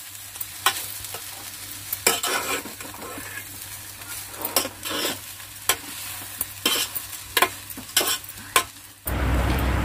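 Thick poha tinted with turmeric is stirred in a hot pan, a spoon scraping and clacking steadily over a light sizzle, close and alone with no voices, before a sudden louder rush at the very end.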